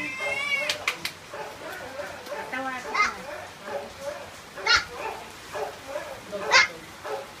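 A dog barks a few times, sharp and close, mixed in with children's chatter and playful voices.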